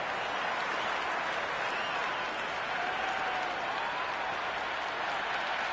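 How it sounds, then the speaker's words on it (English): A cricket stadium crowd applauds and cheers in a loud, continuous wash of clapping and roaring that holds steady throughout, heard from within the stands. "It's the most enthusiastic crowd you could ever see right now. There's a buzz, a real buzz coming from the stands."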